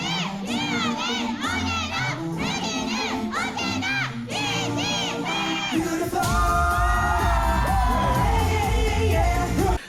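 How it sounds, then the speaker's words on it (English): Concert crowd at a show in Zepp Nagoya shouting loud, rhythmic fan chants over the music, a dense roar of many voices that swells even louder toward the end. "I couldn't really appreciate the acapella portion of the little interlude before the final chorus because the fan chants were so loud"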